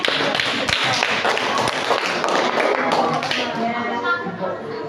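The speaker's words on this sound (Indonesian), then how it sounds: "silakan tepuk tangan" Students in a classroom clap together, a dense patter of hand claps running the full length and fading slightly near the end, with a few louder thumps mixed in.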